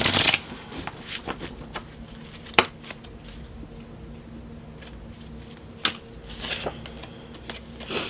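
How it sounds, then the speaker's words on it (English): Tarot, oracle, angel and spirit cards are shuffled by hand up close, a soft continuous riffling texture broken by a few sharper slaps and snaps as the deck is squared. "we're going to pull an oracle, angel, and a spirit card, and then we're going to get into the tarot"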